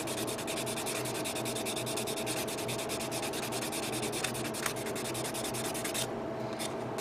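A sanding sponge rubs against a plastic part from an HG Zaku I Gundam model kit, making a steady, close, continuous scratchy hiss with fast back-and-forth strokes for several seconds before a brief pause near the end.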